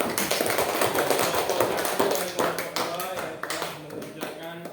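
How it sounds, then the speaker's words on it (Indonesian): Fourth-grade students in a classroom clap together, producing a loud burst of quick, crisp hand claps mixed with children's voices and chatter that thins out toward the end. "Tepuk tangan semua"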